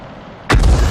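SU-5 self-propelled gun firing a single round in a video game: after a quiet stretch, one heavy, sudden boom that rolls into a sustained low rumble, loud and close, with no talking.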